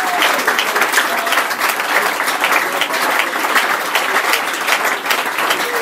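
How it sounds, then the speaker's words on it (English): A church congregation at an evening revival service claps for Jesus, loud, close and continuous rhythmic clapping from many hands with a faint murmur of voices beneath. "Let's begin to clap for Jesus."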